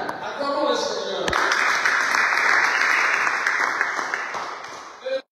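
A church congregation breaks into loud, sustained applause during a sermon, clapping filling the space steadily for several seconds before cutting off abruptly, with a voice briefly heard at the start.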